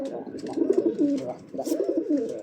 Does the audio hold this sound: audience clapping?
no